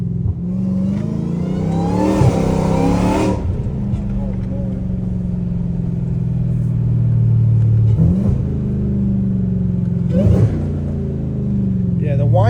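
Catless Dodge Hellcat Redeye with exhaust valves closed, revving hard in several rising bursts over a deep idling rumble, loud and close, with someone talking over it.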